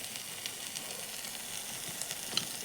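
Masala cooked down with water sizzles quietly in oil that has separated, a faint, even frying hiss with small pops and no voices.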